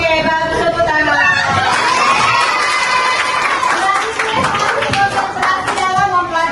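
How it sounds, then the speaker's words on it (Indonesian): Junior high students in a classroom clap their hands together in a lively burst, mixed with excited children's shouts and cheering, loud and close. "bagus tepuk tangan"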